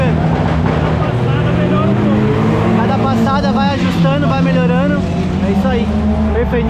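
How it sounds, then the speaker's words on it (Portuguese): A loud turbocharged engine in a 1954 split-window Volkswagen Beetle, built to 600 hp, drones steadily nearby while driving as people talk over it, the motor holding a rough, constant rumble throughout. "Esse é o motor do Marquinho, curveiros."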